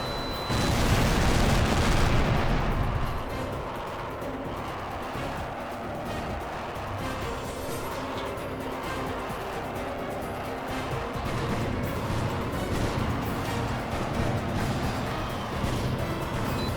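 Missile launches and impacts in Tom Clancy's HAWX, with a loud burst at the start easing into sustained, dense rumbling and crackling that carries on throughout.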